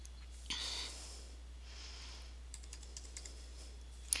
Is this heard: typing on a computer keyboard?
yes